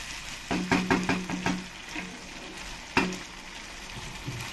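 Masala for rui posto is being stirred and fried in hot oil in a pan: a close run of scraping, knocking stirs over a steady sizzle, then one sharper knock, with no talking.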